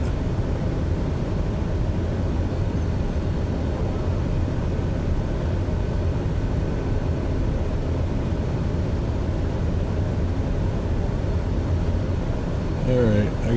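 An airliner taxis in Microsoft Flight Simulator near Houston, its engines giving a steady low rumble and hum throughout that sits close and constant, with brief faint clicks near the end.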